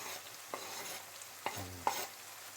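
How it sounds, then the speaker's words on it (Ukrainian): Spoon stirring spices and sweet pepper through a frying pan of sautéed mushrooms, giving a few soft scraping strokes over a quiet, faint background sizzle, with no talking. "Помішаємо."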